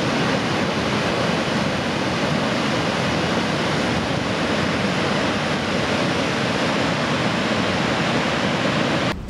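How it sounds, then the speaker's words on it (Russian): Constant loud roar of rushing, falling water, dense and unbroken, from the Nart waterfall heard from a nearby viewing platform. "Водопад Нартов."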